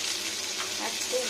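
Salted moringa drumsticks fry briefly in a pan as they are stirred, a short, steady, close sizzle with faint movement in the oil.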